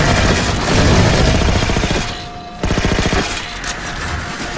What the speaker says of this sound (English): He's shooting the ship.